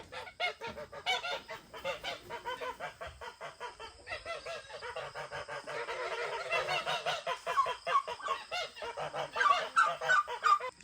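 Turkeys on a small farm call noisily in a rapid, overlapping stream of honking gobbles, fairly close and persistent throughout, rising a little louder toward the end.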